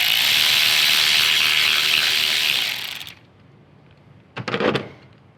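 A 12 mm ratchet removing the nut from a Toyota 4Runner battery post, giving a loud, rapid, continuous clicking for about three seconds up close, then a pause and a brief burst of clicks.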